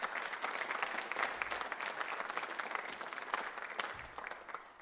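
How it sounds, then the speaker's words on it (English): A high school senior honors night audience in Lodi claps steadily for about five seconds, a dense, fairly distant round of applause from a large crowd with no talking over it. "So how about a round of applause for everyone else?"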